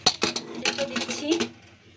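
Metal lid set onto a pressure cooker of cauliflower and potatoes, a cluster of quick clanks and clinks over about a second that fade to quiet, heard close in a kitchen.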